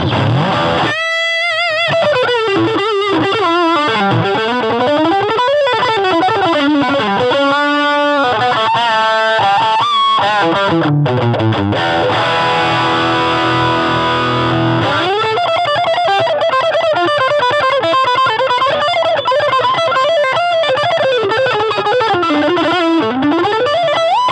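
Electric guitar through a Harley Benton Tube5 tube amp and Strymon effects, a distorted, effects-heavy tone playing sustained notes and bends, some wobbling like chorus, loud and steady with no talking.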